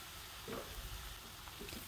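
A mushroom filling stir-fried in a pan, seasoned with oyster sauce, pepper and broth powder, gives a steady quiet sizzle with soft scraping strokes of stirring.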